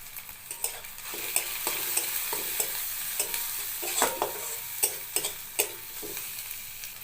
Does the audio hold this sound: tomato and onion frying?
yes